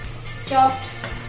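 Roughly chopped garlic hits a hot pan for masoor dal, a brief hiss and sizzle with a clatter of stirring swelling in the middle, moderately loud and close.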